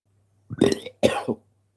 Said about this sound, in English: Oh, I got burps.